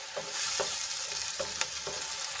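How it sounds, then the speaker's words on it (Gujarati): Tomato puree being stirred into frying onions, a soft sizzle under several quick scraping stirs, faint and close, with no talking. "હવે એમાં આપણે બે મોટા ટમેટાની પ્યુરી એડ કરીશું અને સરસ રીતે આપણે એને ડુંગળીમાં મિક્સ કરી લઈશું"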